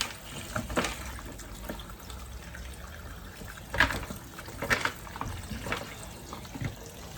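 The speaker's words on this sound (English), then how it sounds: "So I have washed my salted beef in vinegar" Tap water runs and splashes while salted beef is washed in vinegar and water in a kitchen sink, with a steady trickle and a few louder splashes.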